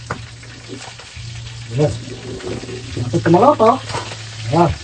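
Food sizzles and crackles steadily in hot oil as a person speaks intermittently nearby, with a low hum underneath.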